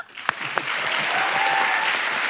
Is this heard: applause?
yes